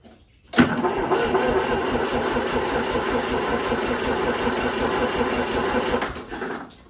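A 1940s Allis Chalmers tractor engine fires up after sitting for years, catching abruptly and settling into a steady, close, rattling idle that runs several seconds before cutting off near the end.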